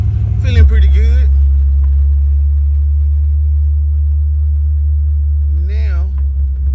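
A Ford Mustang Foxbody runs with a loud, steady low engine drone from inside the car, while a person speaks briefly at the start and again near the end.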